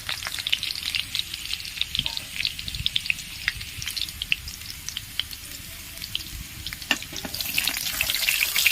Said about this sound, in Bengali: আলুগুলো কিন্তু একদম লাল লাল করে ভাজা হয়ে গেছে।